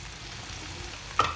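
Green chillies sizzle in a pan with salt, a close, steady frying hiss with a single sharp scrape of the spoon near the end.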